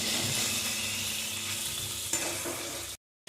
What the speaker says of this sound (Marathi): टोमॅटो छान मऊ होईपर्यंत भाजून घ्यायचा आहे